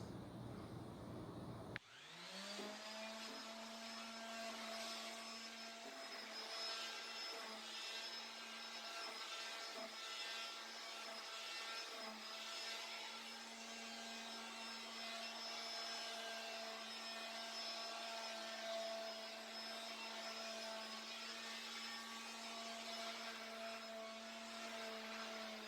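A power sander starts abruptly and runs with a steady, loud whine and rough hum, grinding continuously on a wooden flag.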